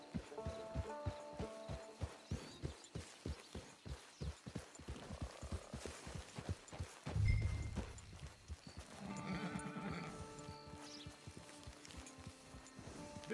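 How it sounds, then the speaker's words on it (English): A horse's hooves clip-clop at a steady walking rhythm in Red Dead Online, close and clear, with ambient bleating livestock and a brief louder rumble midway, no talking. "Get your horse."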